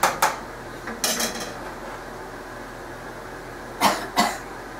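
Tofu rava upma being stirred in a pan over medium-low heat: a few separate scraping clinks of a spoon against the pan, in two clusters with quiet stretches between, close and moderately loud with no talking.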